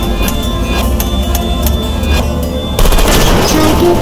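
Turrets in Portal Stories: Mel fire a rapid, dense burst of automatic gunfire, loud and continuous, growing harsher partway through, with no speech over it.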